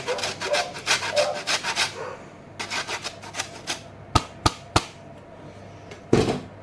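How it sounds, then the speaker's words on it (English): A lemon is rubbed against a grater for its zest, giving quick bursts of scratchy rasping strokes, then a few sharp taps and pauses, close up with no voices. "then we are going to add the grated zest of a lemon"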